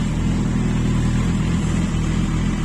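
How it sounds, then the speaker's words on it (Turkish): A steady, throaty exhaust drone from a Suzuki GSX650F 650 cc motorcycle engine runs continuously at close range, a low pulsing rumble with no pauses or voices. "Bunlarda egzoz sesi diğerlerinde yoktur"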